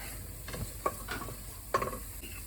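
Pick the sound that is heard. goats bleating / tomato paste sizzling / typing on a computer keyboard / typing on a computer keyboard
tomato paste sizzling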